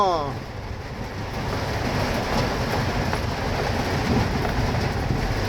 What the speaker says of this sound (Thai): ฝนตกก็ฝนตก